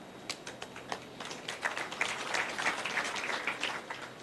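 Scattered applause from a graduation audience builds from a few separate claps into steady, moderately faint clapping that continues to the end, with no voices.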